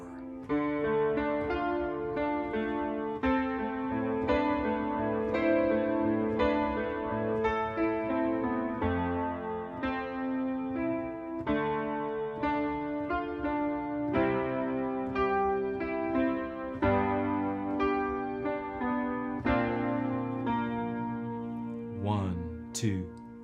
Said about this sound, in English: Let me play through the whole bridge slowly.